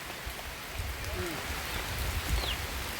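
Soft, steady patter of rain falling, with a few faint bird chirps in the background.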